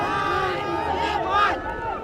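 A stadium crowd at a Nepal versus West Indies cricket match cheers and roars in a steady, broad wash, with a commentator talking over it.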